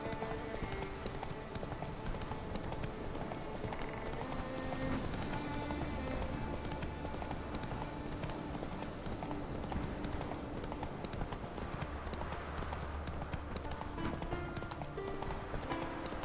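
Hooves of the horse Roach clip-clop in a steady galloping rhythm in The Witcher 3, fairly faint and continuous beneath game music.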